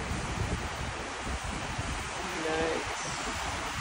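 Strong habagat-season wind and surf on Boracay, a steady broad roar of gusting air and breaking waves that stays loud and continuous throughout.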